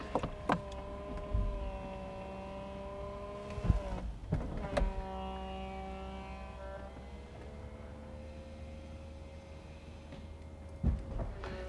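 The motorised folding hard top on a 2017 Mercedes SLC43 AMG convertible retracts with a steady electric whine that shifts pitch through the cycle, broken by a few clunks and latch clicks as the panels move and stow.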